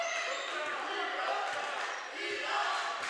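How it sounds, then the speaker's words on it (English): Crowd at a women's college basketball championship game chanting in a rhythmic, repeated pattern, loud and echoing through the gym, with sharp ball bounces punctuating the noise. "They're chanting D up instead of the ordinary regular defense chant."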